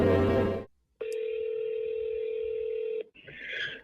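An office phone places an outgoing call: a short speech fragment, then a steady tone that holds for about two seconds before a brief beep follows.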